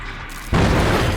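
A sudden loud boom from a generator exploding in Dead by Daylight cuts in after a quiet moment, leaving a dense roaring rumble.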